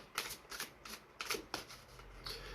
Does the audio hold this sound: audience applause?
no